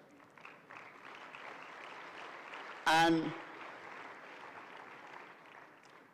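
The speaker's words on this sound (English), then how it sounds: "So yes, please, clap." Audience applause fills a conference hall steadily under a speaker's amplified voice, with a brief louder burst of sound in the middle.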